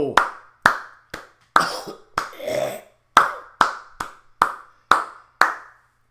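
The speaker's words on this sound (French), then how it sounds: "on comprendra que les applaudissements c'est un bonus qu'on vous donne dans le fond" Slow, sparse clapping, roughly a dozen separate sharp claps from one or a few people, greets a dancer after her performance, each clap distinct with silence between.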